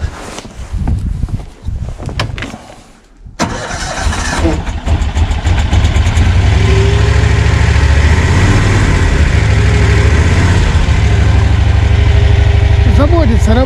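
A Lanchin 30 hp engine on a tracked all-terrain vehicle cranks, then catches and settles into a steady, loud, close-up running drone during cold weather, with someone talking over it.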